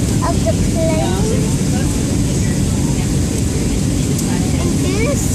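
Steady, loud broadband drone of a big passenger plane's cabin in flight, a constant engine and air roar filling the whole stretch, with faint higher chirps over it and no clear talk.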